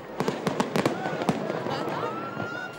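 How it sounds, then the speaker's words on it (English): New Year's midnight fireworks for 2018 crackle and pop in a rapid string of sharp bursts, then fade to a whistling, rushing wash, with a voice talking over them. "at midnight, an array of fireworks lighting the sky, making way for 2018"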